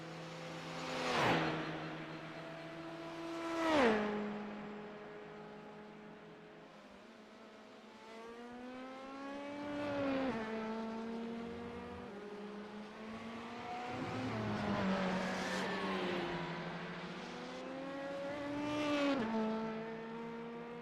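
Race car engines at Le Mans in a racing video game, heard fairly quietly: repeated rising engine whines through gear changes with distinct upshift drops and a few louder passes, continuous across the stretch.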